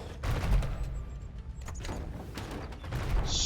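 Mangonel siege weapons firing in an Age of Empires 1v1 battle on the African Clearing map, heard as a loud, busy mix of repeated low booms and thumps with clattering impacts and a bright burst near the end, without speech.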